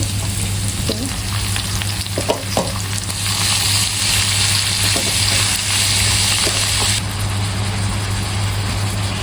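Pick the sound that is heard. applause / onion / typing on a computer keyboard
onion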